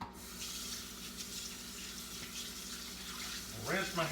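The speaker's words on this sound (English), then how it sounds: "I'll rinse my hands off here." A kitchen tap runs steadily while hands are rinsed after baking biscuits, a close, even hiss of water that swells into louder splashing near the end.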